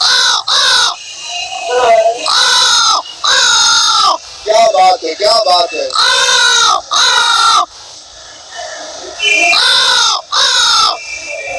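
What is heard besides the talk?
crows cawing, a flock of crows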